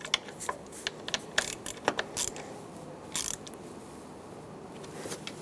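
A ratchet wrench tightens the ignition coil bolts on a 2003-2009 Dodge Ram 2500 with a 5.7L V8, giving quiet repeated clicking and creaking strokes in short uneven bursts.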